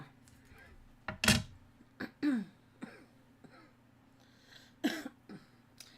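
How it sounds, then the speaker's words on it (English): Several short, separate coughs with quiet gaps between them, close by in a quiet room. "Yeah, I still got this cough going on."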